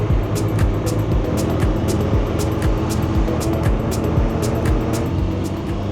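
A small older hatchback drives along with its engine droning steadily while the driver double-clutches through gear changes, producing a busy, loud mechanical rumble with repeated faint clicks and no speech on top.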